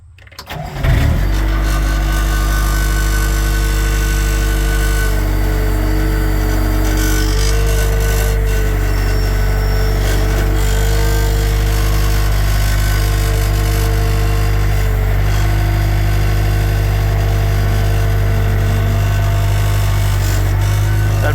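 A homemade lawn edger's small engine runs steadily and loudly after a quick start, holding a constant droning hum throughout while it is pushed along the edge, with no talking.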